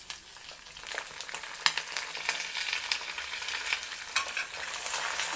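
Lentils splutter and crackle in hot oil as a tempering fries, a steady sizzling hiss broken by scattered sharp pops and spits, fairly close with no voices.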